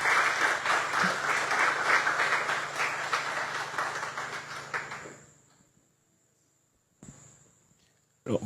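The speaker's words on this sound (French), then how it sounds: "j'appelle Monsieur le maire, Monsieur Michel Mado, que je vous demande d'applaudir" An audience at a literary evening applauds the mayor with steady, dense clapping that lasts about five seconds and then fades into near silence, followed by a brief knock.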